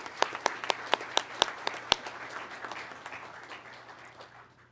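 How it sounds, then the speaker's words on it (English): Applause at a pilot training graduation, opening with a few sharp, loud claps close by that quickly blend into a softer crowd of clapping tapering off. "So a round of applause for our mechanics at Momentum and our MAQ team."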